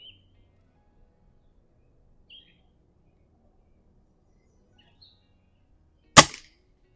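A single sharp crack from a Norica Omnia ZRS air rifle fired at an outdoor range rings out after several seconds of near silence, with a few faint bird chirps scattered before it.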